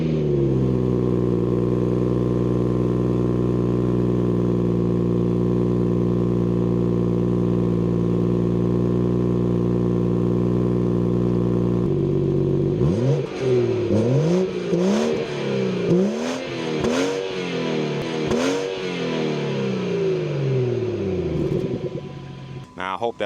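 A BMW 440i xDrive Gran Coupe heard from the rear, first idling with a deep steady drone, then a series of loud throttle blips and revs with rising and falling pitch, over a voice speaking at times.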